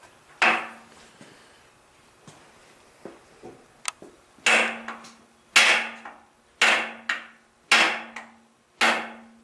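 Cold Steel AK 47 knife spine struck hard against wood in a series of sharp, loud whacks, spaced roughly a second apart, close up with quiet between blows.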